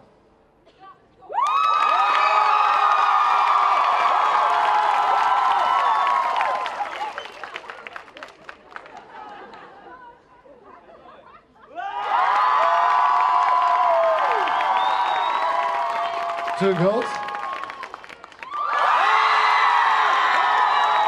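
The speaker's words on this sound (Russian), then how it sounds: "потому что вы аплодировали и кричали громче" A live audience at a dance competition erupts in loud cheering, shouting and clapping across two long sustained waves with a short lull between, then builds a third time, with a voice briefly speaking in the gap.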